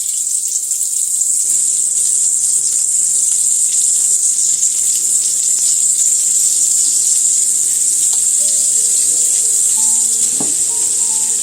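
Shrimp fry in hot bacon fat in a pan with a loud, constant hiss and crackle from start to end, and a few faint clinks come near the end.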